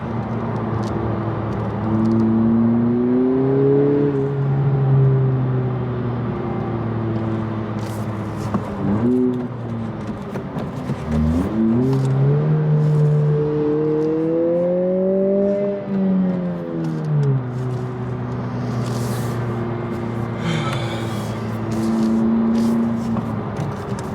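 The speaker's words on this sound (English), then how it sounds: "Oh, there's some immediate clutch slip." A 2020 Honda Civic Si engine revving with a slipping clutch, a loud, close droning whine that climbs and falls in pitch, with sagging dips and surges over a steady engine roar.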